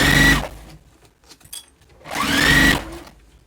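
A sewing machine stitches through the two pocket layers of a jellyroll tote bag in two short, close bursts separated by a pause of about a second and a half.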